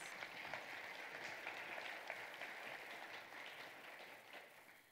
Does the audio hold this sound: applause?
yes